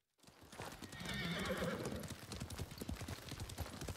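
A horse neighs loudly in Ghost of Tsushima, the fallen mount of a samurai clan, with hooves clip-clopping rhythmically throughout and faint game sounds beneath.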